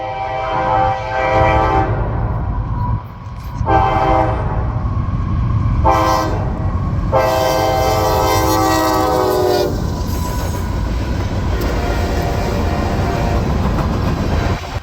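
CSX freight train L344 passes on the Columbus Subdivision at Morrill, sounding several loud, long horn blasts over a heavy, steady rumble of rolling cars and wheel clatter, close by.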